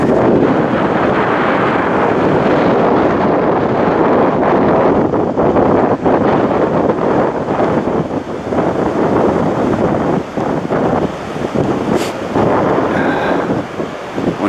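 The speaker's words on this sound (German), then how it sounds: "Ich hoffe, mit den Windgeräuschen das geht, weil das pfeift hier ganz schön." Strong wind buffets and whistles across a Baltic Sea coastal cliff on Rügen near Göhren, a loud continuous roar with gusty swells and no talking.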